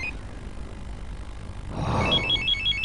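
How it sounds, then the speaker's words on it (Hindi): A telephone starts ringing partway through, a repeating electronic trill of short pulses after a quiet stretch of low room hum, fairly clear and close. "किसका फोन है"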